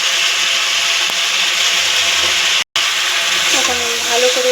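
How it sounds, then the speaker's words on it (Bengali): Lentil dumplings (bori) dropped into a pan of frying potatoes, giving a steady close sizzle and scrape of stirring, broken by a brief dropout midway. "এখন বড়িগুলো দিয়ে দেবো।"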